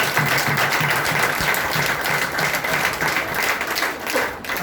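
A seminar audience in Bihar breaks into loud, sustained applause, many hands clapping steadily for several seconds before tapering slightly at the end.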